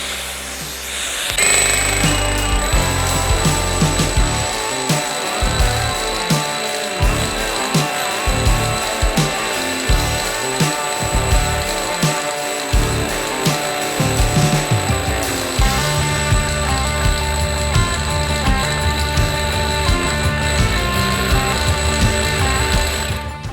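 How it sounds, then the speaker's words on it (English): A rotary hammer fitted with a Diablo carbide bit bores steadily into masonry while an attached vacuum runs alongside, a loud continuous whine and hammering rattle lasting the whole stretch with brief shifts in pitch and no speech. "we're going to attach our vacuum cleaner and we're going to attach our rotary hammer."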